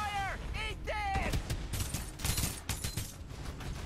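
Gunfire in the Farlight 84 battle-royale game, a burst of rapid shots and impacts mixed with game effects, loud and busy throughout, preceded by short synthetic tones.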